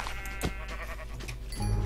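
A sheep bleats in Minecraft during a game session, a single short bleat near the middle, with background game music underneath and a louder low thump toward the end.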